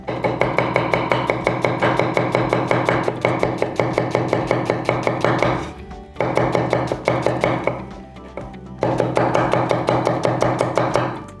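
Rapid, even Japanese kitchen knife chops strike a cutting board in quick succession, close and crisp, with a few short pauses between runs.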